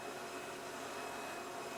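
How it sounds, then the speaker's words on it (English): A vacuum cleaner sound effect dubbed into a bedroom scene gives a steady, broadband whooshing drone throughout, unbroken and fairly quiet, with no voices. "The vacuum sound is Foleyed in."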